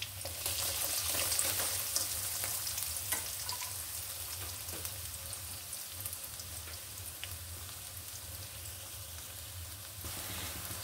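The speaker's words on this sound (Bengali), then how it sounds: "এখন আমি দিয়ে দিব কিছু পেঁয়াজ কুচি।" Chopped onions and crushed garlic fry in a pan, giving off a steady close sizzle that hisses evenly throughout with no voices.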